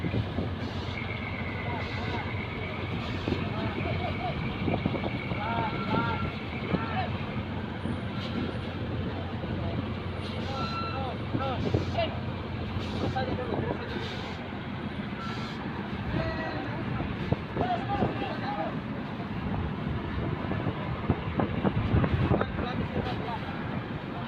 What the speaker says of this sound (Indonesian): ini bus pertama yang keluar dari lambung kapal BMJ 24